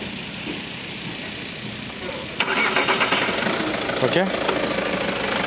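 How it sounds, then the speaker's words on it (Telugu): A 2014 Skoda Rapid's engine cranks and catches on the first try with a sudden burst of sound, then settles into a steady, close idle while a person briefly speaks. "మళ్ళీ బండి ఆన్ చేస్తున్నాను"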